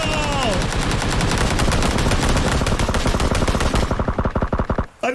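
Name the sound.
SKS rifle gunfire in the video game PUBG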